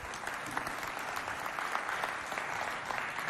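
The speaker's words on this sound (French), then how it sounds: "On les applaudit bien fort." Steady, dense audience applause at a French youth holiday event, a hall full of people clapping continuously at even loudness throughout, with no talk over it.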